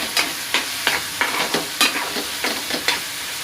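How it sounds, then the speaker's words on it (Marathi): Curry leaves hit a hot pan in a Malvani-style kitchen, giving a run of about ten quick crackling, scraping bursts in a steady rhythm, loud and close, with no talking. "आता मी त्यामध्ये कढीपत्त्याची पानं टाकते."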